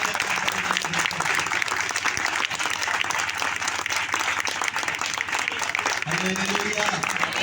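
A church congregation claps together in dense, sustained applause that holds steady throughout, with voices audible underneath.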